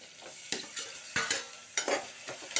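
Tomatoes, onion and green chilli sautéing in a pan for tomato rice with wheat rava, with close repeated stirring scrapes over a soft, steady sizzle and no voices.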